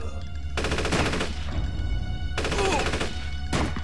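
Heavy automatic gunfire from a squad in the horror tactics game Gorky 17, sustained loud bursts separated by short pauses, close and unbroken over several seconds without talk.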